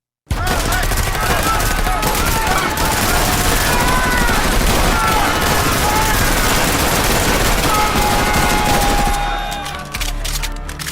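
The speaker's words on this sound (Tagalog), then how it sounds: "ang mga tauhan ni Governor ay nagpaputok na rin" Sustained gunfire from a roleplay video game shootout, rapid overlapping shots and bursts forming a loud continuous barrage with no break for about nine seconds before it dips slightly near the end.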